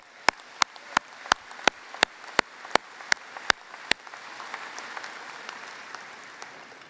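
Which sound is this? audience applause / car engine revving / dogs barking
audience applause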